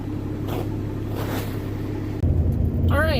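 A Fox body Ford Mustang engine rumbles steadily from inside the car while driving, a low continuous drone that shifts in tone partway through as the load changes, with a faint voice near the end.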